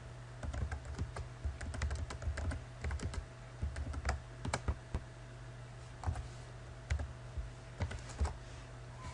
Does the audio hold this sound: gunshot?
no